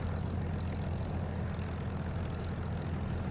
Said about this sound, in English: I'll leave the engine ticking over nicely.